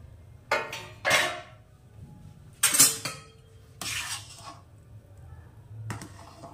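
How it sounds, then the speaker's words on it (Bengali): A metal lid is lifted off a pot of vegetarian Bengali bhuna khichuri after five minutes on a high flame, giving a few separate clanks and clinks of metal against metal with quiet gaps between them and no talking. "5 মিনিট হাই ফ্লেমে রাখার পর আমি ঢাকনাটা এবার তুলে নেব।"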